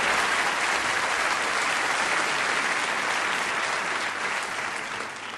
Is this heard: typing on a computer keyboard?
no